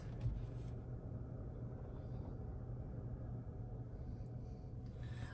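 Cars in a crowded parking lot at a busy night market in LA's Thai Town, a steady low rumble of idling and passing vehicles.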